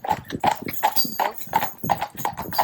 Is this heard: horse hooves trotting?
yes